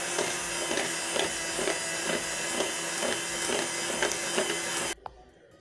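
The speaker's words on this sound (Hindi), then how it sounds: "फिर मैं इसे बीट करना शुरू करूँगी।" An electric beater whirs steadily through cake batter for a rawa mawa tea-time cake, with a continuous broadband motor drone and faint rhythmic pulses from the beaters. It runs loud and close for about five seconds, then cuts off abruptly into near quiet.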